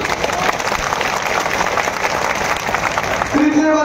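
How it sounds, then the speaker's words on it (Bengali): A large crowd claps steadily and densely at an outdoor protest rally in Baharampur, the applause continuing without break, with a voice rising over it near the end. "সকলকে আমরা তালি বাজিয়ে ধন্যবাদ জানাচ্ছি"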